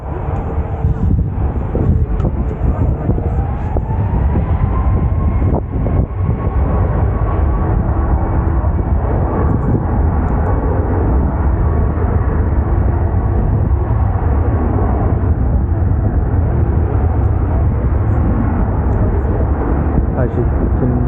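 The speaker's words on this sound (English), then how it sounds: "the Ryanair 737 MAX in the distance, heading to Fuerteventura, is all lined up with runway 23 left now, and it's just starting a takeoff roll" Ryanair Boeing 737 MAX with CFM LEAP 1B engines beginning its takeoff roll on runway 23 left at Manchester Airport, a loud, steady broadband engine roar with rising tones, mixed with wind buffeting on the microphone for the full length.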